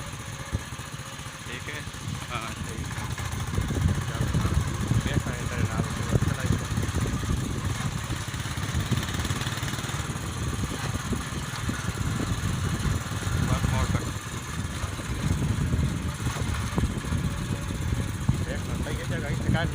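A motorcycle engine idles steadily and fairly close while children learn to ride, its low rumble continuing under frequent talking from people nearby.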